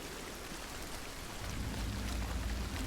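Heavy rain pours down in Hunt: Showdown as a dense, steady hiss, with a deeper low rumble building halfway through like distant thunder, with no voices.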